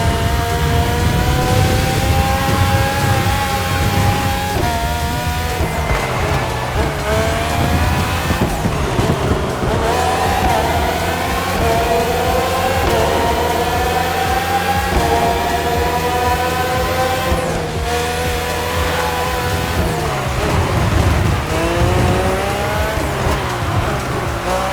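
F1 race cars racing in The Crew Motorfest video game, with Renault and Honda engines, scream continuously at high revs, with repeated gear shifts and rising and falling engine pitch throughout, loud and close.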